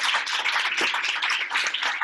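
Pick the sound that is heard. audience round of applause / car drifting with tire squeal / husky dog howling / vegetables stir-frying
audience round of applause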